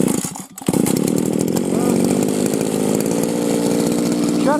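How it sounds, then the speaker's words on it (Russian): A grass mower or trimmer running loudly outdoors in a village, a harsh buzzing engine that kicks in after a short pause and then drones steadily and close at high volume. "Очень громко работает косилка"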